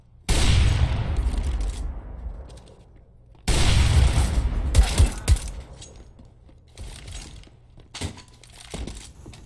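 Bursts of CS:GO gunfire ring out while the player bunny hops. There are two strong volleys with booming decays, followed by scattered quieter shots and thumps.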